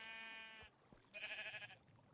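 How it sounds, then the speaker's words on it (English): Two short bleats from sheep in Minecraft, with a brief gap between them, heard alone over faint background hiss. "there's 2 sheep and a horse"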